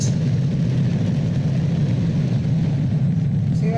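A rocket engine roars during a firing, a steady, dense low rumble that holds at full loudness throughout with no pauses, heard from a distance.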